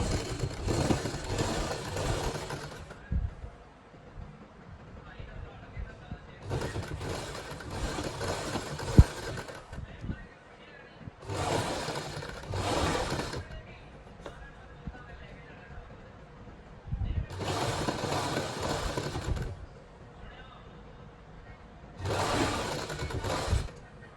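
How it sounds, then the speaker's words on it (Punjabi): Sewing machine stitching a lace trim onto the hem of palazzo trousers, running in five separate bursts of a few seconds each, with someone talking in the quieter gaps between runs. "ਲੈਸ ਦੀ ਆਪਾਂ ਕਿਨਾਰੀ ਤੇ ਸਿਲਾਈ ਲਾਈ ਹੈ"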